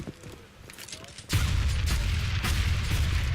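Grenades burst in a Counter-Strike match on the Overpass map, a sudden loud blast opening a sustained, rumbling roar of explosions and gunfire that stays dense to the end, with faint game noise and speech before it.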